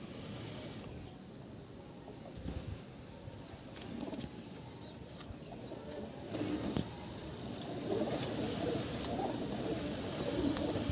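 Howrah breadline pigeons coo softly and flutter close by in the rain, with a steady low murmur of calls and occasional wingbeats throughout.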